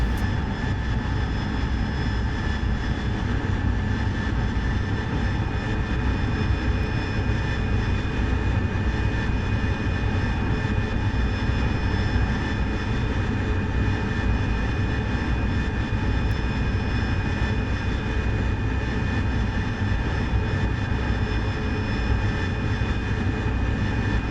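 An AV-8B Harrier jet engine in the DCS flight simulator is held at full power during a night conventional takeoff, producing a steady, loud, unbroken roar with a constant whine and no talk over it.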